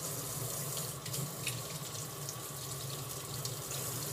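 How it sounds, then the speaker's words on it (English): Cold tap water runs steadily into a kitchen sink as freshly picked chives are rinsed in a colander, a constant close splashing hiss with slight shifts as the stream hits the greens, no voices. "I'm gonna give them a quick rinse in the sink with cold water"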